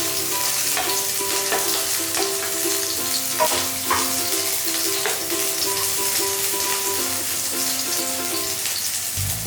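Chilli and garlic frying in hot oil in a wok, a loud, dense, continuous sizzle with occasional spatters and faint clinks, close by and with no voices.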